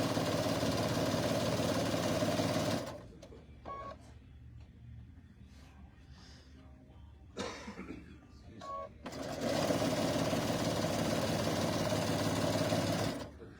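A sewing machine stitches a quilted Riley Blake Star Spangled tabletop banner in two loud, steady runs, with a quieter pause between them where a voice is heard faintly.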